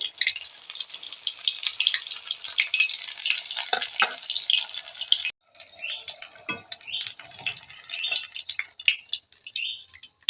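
Steady crackling sizzle of bata fish pakoras frying in hot oil, broken by a brief gap midway, with light clinks of utensils.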